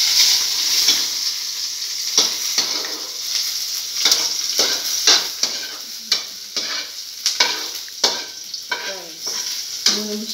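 Cooking oil sizzles steadily in a pan while preparing pork giniling, with repeated scraping and stirring clinks over the constant frying hiss.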